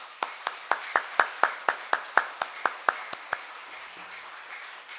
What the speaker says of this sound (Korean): 우리의 그 뜨거운 마음들을 담아서 박수로 환영했으면 좋겠습니다